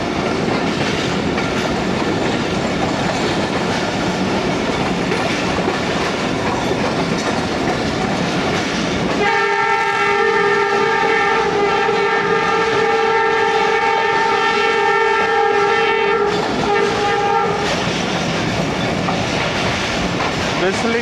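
Sialkot Express passenger train on the Sialkot–Wazirabad branch line rumbling past with a steady clatter, then a long, loud multi-tone horn blast lasting several seconds before the train noise continues.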